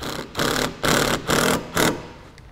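A power driver sinks self-tapping screws into the wire mounting locations on a 2016 Hyundai Elantra while a tow bar wiring kit is installed. There are four loud, close whirring bursts separated by brief pauses.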